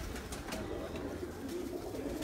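A kamgar pigeon coos on a rooftop loft amid a dense, constant background of other birds and ambient noise, with soft repeated cooing blended into the steady din.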